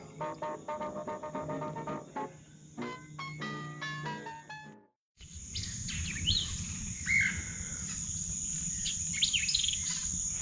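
Outdoor bird song with varied chirps and trills over a constant high insect buzz, then a denser chorus of calls against low rumbling background noise.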